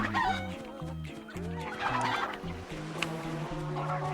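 Chickens clucking repeatedly in the video game Crash Twinsanity, a busy overlapping run of clucks and squawks over game background music, fairly close and continuous.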